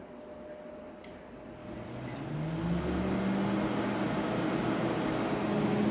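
A smart kitchen range hood fan spins up, its steady whooshing hum rising in pitch and loudness over a few seconds before settling into a constant drone.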